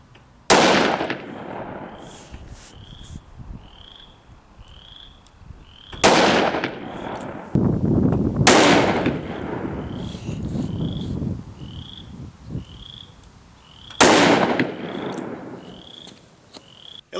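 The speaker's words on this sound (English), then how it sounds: "Alright, next up is the 357 Magnum. First we'll shoot the full metal jacket," Three loud, sharp .357 Magnum full metal jacket shots are fired into ballistics gel. Each crack rings out and decays, and the gaps between shots are spaced several seconds apart. Frogs croak repeatedly in the background throughout.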